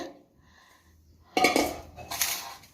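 Sago pearls go into a large cooking pot in two quick bursts of hard rattling and clinking against the metal, separated by a brief pause, with no talk.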